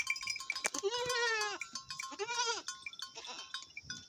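Mountain goats on a farm bleat twice in quick succession, close and clear, with a few faint clicks and knocks around them.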